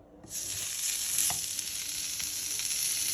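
A thick sirloin steak on the bone sizzles in a pan, the frying rising quickly from near silence into a steady, close hiss that lasts to the end.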